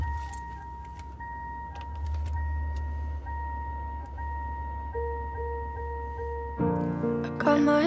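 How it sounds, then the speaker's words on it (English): Jingling keys and the chimes and tones of a car being started or a door opened, taken as a found sound in a pop song, with a steady low engine rumble and soft metallic jangles before a sustained tone swells in near the end. "So here we get the sound of a car starting and or like a door opening"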